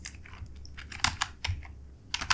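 Code being typed on a computer keyboard, quick irregular bursts of close key clicks with short pauses between them.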